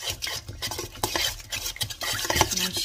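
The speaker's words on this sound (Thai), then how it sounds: "น้ำเชื่อมกับน้ำปลาผสมให้เข้ากัน" Thick homemade syrup and fish sauce stirred together in a bowl or pot, close rapid scraping and clinking of a spoon in a busy irregular rhythm.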